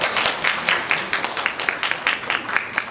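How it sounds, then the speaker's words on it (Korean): Audience at a disability community independence support briefing gives a speaker a round of applause, close and lively hand clapping with a quick uneven rhythm throughout. "큰 박수 부탁드리겠습니다."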